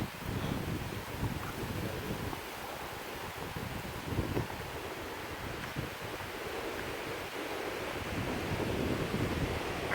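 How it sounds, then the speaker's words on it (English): A river flowing steadily near a bridge, heard as a continuous broadband rush of water with wind buffeting the microphone, fairly constant in level across the whole stretch and without any talk. "Very beautiful river, that's for sure."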